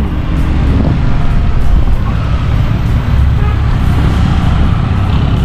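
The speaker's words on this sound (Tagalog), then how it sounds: "Approaching ahon tayo. Traffic na naman." Continuous road traffic and heavy wind roar captured close up from a motorcycle on the Kaybiang Tunnel loop ride, loud and unbroken with no clear speech.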